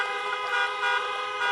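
Car horns honk continuously at a political rally, a dense overlapping chorus of tooting vehicle horns held steady and loud throughout, with no talk over them.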